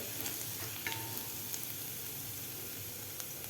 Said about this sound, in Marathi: लसूणसुद्धा आपल्याला व्यवस्थित फ्राय करून घ्यायचं आहे